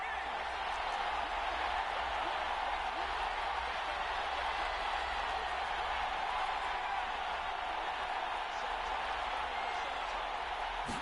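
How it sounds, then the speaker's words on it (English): A football stadium crowd roars steadily through a late fourth-quarter third-and-long, a dense, loud wash of cheering and noise that holds constant from start to finish without letup. "This crowd turning up the decibel level."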